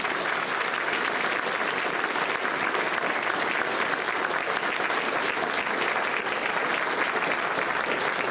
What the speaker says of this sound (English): So let's give all of these students a round of applause.